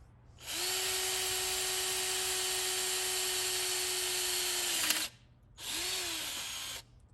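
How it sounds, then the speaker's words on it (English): Power drill with the supplied bit boring a mounting hole for an above-ground pool solar cover reel, one long steady whine of about four seconds followed by a shorter second burst, close and loud with no talk. "drill your first hole"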